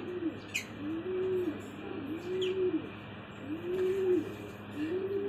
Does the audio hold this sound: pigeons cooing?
yes